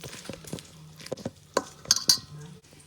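Seasoned food is mixed and tossed to coat it evenly, with scattered utensil clinks and scrapes against a dish, some sharp metallic taps, and a low background hum.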